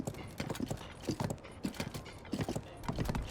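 Rapid clip-clop of horse hooves trotting at a steady rhythm in the video game Zelda: Tears of the Kingdom, close and fairly loud, with no voices.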